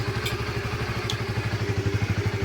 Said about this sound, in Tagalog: ang ganda ng tunog ng makina